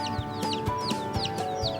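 Poultry chickens kept for vaccination cluck close by in a rhythmic run of short, repeated calls, several birds overlapping against a steady farm background hum.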